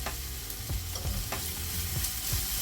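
Onions frying in a pan, giving a soft continuous sizzle with a few faint stirring scrapes, quiet and close.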